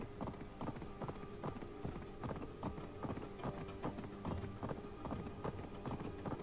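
Horse hooves clip-clop in a steady, even rhythm as a mount carries its rider along a path in the Assassin's Creed Valhalla video game, the hoofbeats close and continuous throughout with no talking.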